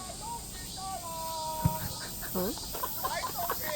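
Cicadas in Namdong neighborhood park keep up a steady high, shrill drone in the background, while nearby voices and a few brief chirpy sounds come and go over it.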